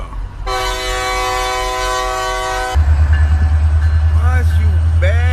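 A train's horn blares in a long, loud sustained blast, then the heavy rumble of rail cars rolling past takes over, near and continuous, with faint voices underneath.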